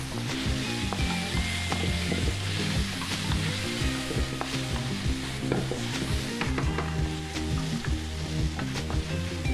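Squash sizzling and frying in a hot pan with occasional stirring clinks, a steady close crackle running the whole time, with low tonal background sound underneath and no talking.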